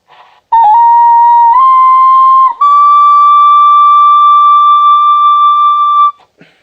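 A bright, sustained trumpet tone on a high E in the upper register holds steady, rising slightly in pitch in small steps across several seconds, loud and up close, with brief breaks between.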